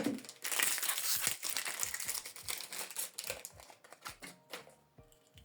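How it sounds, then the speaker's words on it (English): Plastic wrapping being pulled off an HP Deskjet 4130e printer, a steady run of close crinkling and crackling with sharp tearing snaps, busy at first and then thinning into separate rustles. "So remove this plastic."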